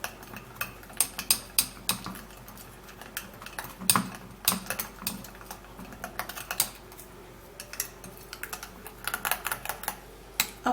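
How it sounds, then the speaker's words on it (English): A teaspoon stirs a homemade mixture in a bowl or cup, making quick irregular clinks and taps that are close and fairly crisp, with no voices. "And then I will have to stir."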